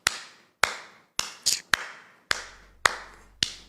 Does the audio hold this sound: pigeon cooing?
no